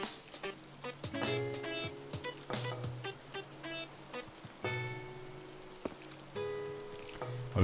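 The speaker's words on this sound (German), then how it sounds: "wenn es irgendwo auf einer Insel regnet, regnet es wirklich anscheinend überall" Rain in the video game Animal Crossing: New Horizons patters steadily across an island, layered under bright plinking musical tones, with no talk.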